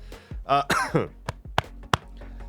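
Several harsh coughs and throat clears from one person during a game-playing livestream, close and loud, coming in an uneven burst of rapid hacks followed by a few isolated sharp coughs.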